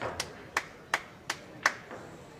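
A lone spectator claps five crisp, evenly spaced times after a shot in a nine-ball pool match, in a quiet room.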